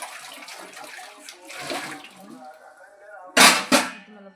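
Water is poured from a bucket for washing dishes: two quick, loud splashing gushes come near the end, after a stretch of quieter running water and faint background voice.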